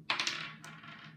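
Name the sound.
dice rolling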